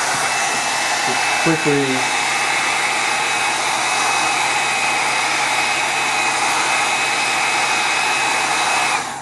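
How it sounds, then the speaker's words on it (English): Heat gun blowing steadily to dry glue spread over a shoe lining and insole during handmade shoemaking, a loud continuous hot-air roar with a thin whine; a brief spoken phrase sits under it near the start. "Then using a heat gun,"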